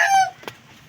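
A rooster's short clucking call, close and loud, sounds once and then fades into quiet, with no other voices present.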